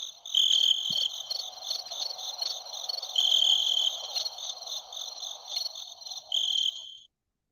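Steady insect chirping of crickets, a dense high trill with rhythmic pulses running continuously at moderate loudness, standing alone as a comic cue for silence, with no voices.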